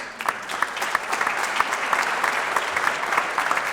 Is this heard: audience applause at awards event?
yes